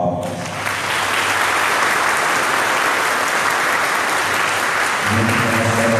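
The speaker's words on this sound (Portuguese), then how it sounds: "uma salva de palmas." A church congregation at a Catholic feast of Nossa Senhora do Socorro claps loudly and continuously, a dense wash of many hands that swells in quickly and stays full for several seconds.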